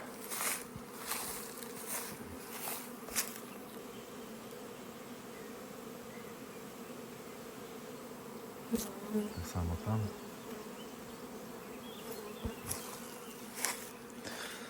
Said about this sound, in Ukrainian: Дуже сильно два вулика повиходили.